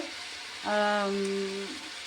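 Chicken kosha sizzles in hot mustard oil with a steady close frying hiss, and a brief tonal whine rises over it midway before fading back to the sizzle.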